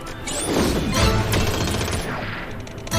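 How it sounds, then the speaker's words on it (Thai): Rapid bursts of gunfire and crashing impacts from the PG slot game BattleGround Royale, dense and loud throughout with sharp cracks layered over a continuous roar. "ยิงเข้าไปยิงเข้าไปรัวๆครับดู"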